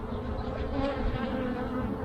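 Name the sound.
honeybees buzzing in the hive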